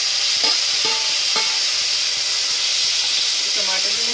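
Tomatoes tumble into a pan of frying onions and green chillies, setting off a steady, close sizzle and hiss with a few soft stirring scrapes. Faint voice-like sounds drift underneath now and then.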